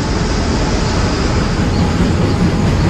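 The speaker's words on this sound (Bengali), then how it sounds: "আর ওই দেখো ট্রেন যাচ্ছে, দেখো" A train crosses a bridge: loud, steady broadband rumble and rattle that runs unbroken throughout, with no voices.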